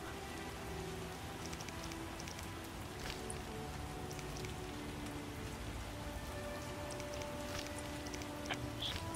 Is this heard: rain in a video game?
yes